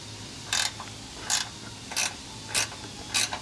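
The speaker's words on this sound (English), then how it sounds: "I just take my ratcheting wrench here" A ratcheting wrench loosens a nut on a 2021+ Ford F150 during a 6-inch lift kit install, giving five short, crisp bursts of clicking evenly spaced over a quiet background hum.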